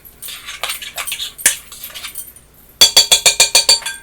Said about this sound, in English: So once you mix your seasoning up